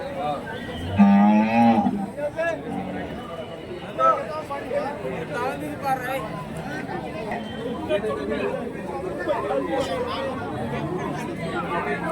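Native cattle moo loudly at the Kelamangalam cow market, one long low call standing out near the start, with more lowing and steady crowd chatter and voices filling the background throughout.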